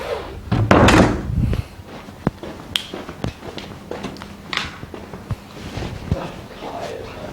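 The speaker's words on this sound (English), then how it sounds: "Close door again." A door is closed in a room: a loud thud followed by rattling and a scatter of scattered taps and knocks, close and with no talk.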